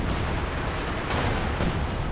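Airburst artillery shells in Company of Heroes 2 give a dense, loud, continuous rumble of overlapping blasts and battle noise, with no voices.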